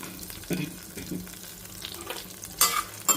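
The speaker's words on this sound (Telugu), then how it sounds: "చూడండి అంత బాగా వేగుతున్నాయి" Curry leaves and green chillies frying in hot oil, a light sizzle with occasional stirring scrapes and a sharper crackling burst near the end, close and quiet with no talk.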